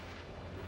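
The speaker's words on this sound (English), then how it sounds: "A mysterious explosion" A low, rumbling blast from a mysterious explosion near Roswell, New Mexico in 1947, heard as a continuous deep roar that stays loud and broad for under a second, with no voices.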